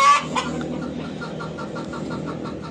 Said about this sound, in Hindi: तो अब ये कट कट कर रही है कि ताकि मुझे दोबारा अंदर बिठाया जाए अंडों पे।